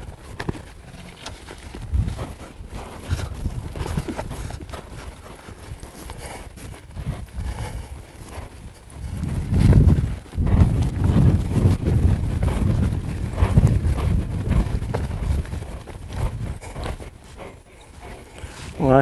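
Cutting horse colt being worked in an arena, hooves thudding and clip-clopping irregularly amid steady wind noise, growing louder and busier in the second half, with no talk.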